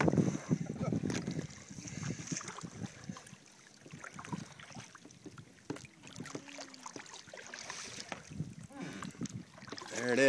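A Tempo RTM kayak paddled standing up on open water in Rookery Bay, Naples, Florida: soft, irregular splashes and water wash over steady wind noise, with some faint talk nearby.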